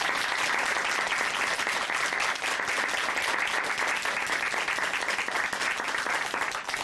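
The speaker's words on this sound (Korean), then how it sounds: "다시 한번 박수 부탁드립니다" Studio audience applause at a Korean Christian broadcast testimony show, dense steady clapping that fills the room at full level from start to finish, with no voices over it.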